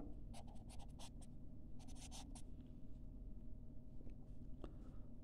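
Pen scratching across a rough sheet of paper during a math explanation, with bursts of writing strokes in quick clusters, close and fairly quiet over a steady background hum.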